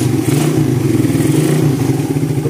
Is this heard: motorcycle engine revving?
yes